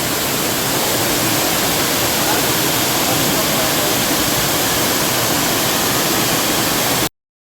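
Tirathgarh Waterfalls near Jagdalpur, Chhattisgarh roars nearby, a loud, dense and unbroken rush of falling water that fills the scene and then cuts off abruptly.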